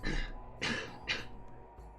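Three harsh throat-clearing coughs from a person with a lingering cough, close and loud, each a short rasping burst separated by brief pauses, with no talk.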